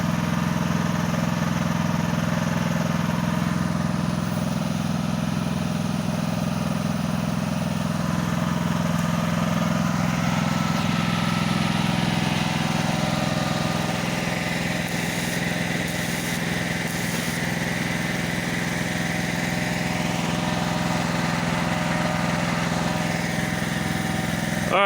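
The engine of a trailer-mounted logging crane runs steadily at close range, a continuous mid-pitched drone with small shifts in load as the hydraulics work, with no clear speech.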